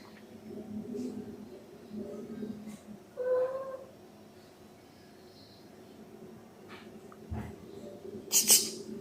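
A cat meows softly in a quiet indoor room, a brief rising call partway through, with faint rustling and a sharp clatter near the end.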